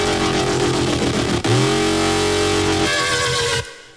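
Serum synth screech patch built from square and triangle oscillators, the triangle raised an octave and seven semitones, with no FM applied: a loud, dense, buzzing sustained tone that shifts pitch partway through and cuts off abruptly near the end.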